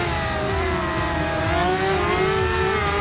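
A Honda CBR1000 superbike screams at full throttle in the RIDE 2 racing game, a loud, sustained high-pitched engine whine with rising harmonics that holds steady for a few seconds, with no talk over it.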